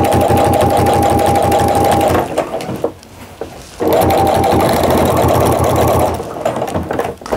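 A sewing machine stitches bias binding onto a Christmas tree skirt in short loud bursts of rapid, even needle hum, with a quiet pause in the middle while the work is turned, then another run of stitching.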